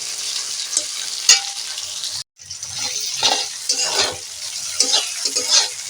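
Chopped tomatoes stirred and fried in a pan after garlic, a crackling sizzle with repeated scraping strokes and a brief silent break partway through.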